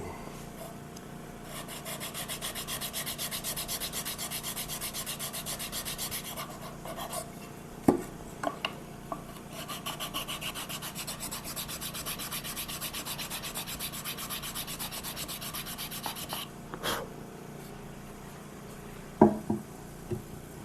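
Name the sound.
sanding wood with flat sanding block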